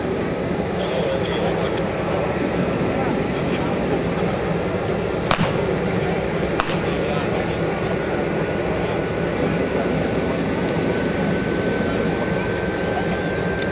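A C-130 turboprop aircraft at an air show produces a steady, loud drone with a sustained engine tone, broken by two sharp cracks, as a person speaks over it.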